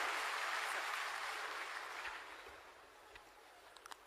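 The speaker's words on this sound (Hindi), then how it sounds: "जोरदार तालियों से सर का स्वागत करें।" Audience applause welcoming an official at a Ravidas Jayanti government event, a broad steady wash of clapping that fades gradually, with a few sharper sounds near the end.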